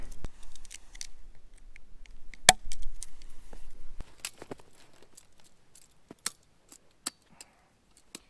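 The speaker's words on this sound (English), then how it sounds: "I'm just going to cut this drop off and then throw a dead end T in" Sap tubing drop line on a maple tree is cut with a few sharp snips, followed by scattered light clicks and handling noises that thin out toward the end.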